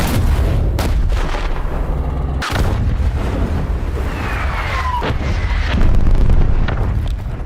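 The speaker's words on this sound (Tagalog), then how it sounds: "Pagdating ng kalaban ay 3 tangke ang sabay-sabay na nagpaputok" Three tanks firing together in a war film battle scene, heavy booming blasts with sharp cracks and rumbling echoes, loud and close, a dense barrage over several seconds.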